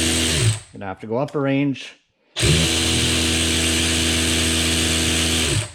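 A DeWalt DCF513 20V 3/8-inch cordless ratchet runs loud and close at full speed, a steady high whirring motor drone that fills the second half after a short spoken remark and a brief pause.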